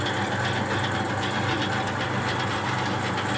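A Harrison L6 metalworking lathe runs slowly in bottom gear at 45 RPM, giving a steady, close mechanical hum and drone with a faint rhythmic churn.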